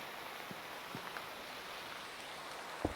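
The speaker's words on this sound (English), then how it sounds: "The rain is quite heavy today, I just realized." Heavy rain falls steadily outdoors as an even, constant hiss with no voices, broken by a few soft taps and one sharper knock near the end.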